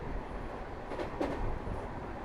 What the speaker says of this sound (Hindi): अपनी गति में फुल भागती हुई ट्रेन